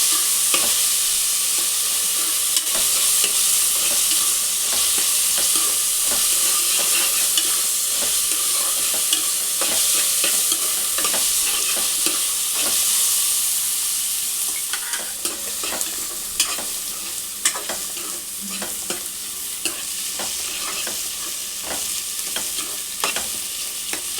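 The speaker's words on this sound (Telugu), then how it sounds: "మంచిగా గోల్డ్ కలర్ వచ్చేంత వరకు ఇట్లా ఫ్రై చేసుకోవాలి" Onions fry in a pan for bagara chicken curry, a loud, continuous sizzle broken by frequent scraping stirs and clicks of the spoon, with no one talking.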